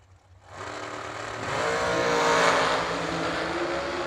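A dragster launching down the drag strip, a loud roaring engine rising sharply from quiet and sustaining a powerful, harmonic-rich howl as it pulls away.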